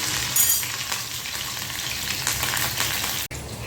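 Chillies hit hot oil in an iron kadhai with cumin and crackle in a loud, close, continuous sizzle and spatter, steady throughout with a brief dropout near the end and no voices.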